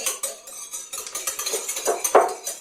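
A metal spoon clinks and scrapes repeatedly against a bowl while stirring imitation vanilla into a mixture for cinnamon roasted pecans and almonds, a steady run of close, bright taps with a louder knock near the end.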